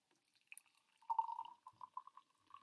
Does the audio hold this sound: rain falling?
no